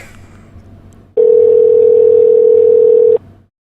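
A telephone dial tone starts abruptly on a call, a loud, unbroken steady hum lasting about two seconds before cutting off, with quiet room noise before and after.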